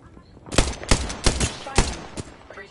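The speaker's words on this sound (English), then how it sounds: "I'm getting shot at." Gunfire in Apex Legends: five sharp, loud shots in an irregular burst pattern, each a crisp crack with a short tail, spaced roughly a third to half a second apart over quiet background.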